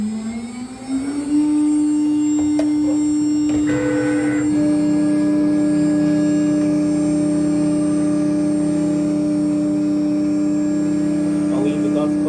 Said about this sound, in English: Machine warms up.